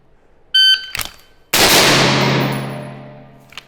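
A single loud rifle shot rings out sharply and decays over a couple of seconds, preceded by an electronic timer beep and a metallic clang during a timed shooting drill.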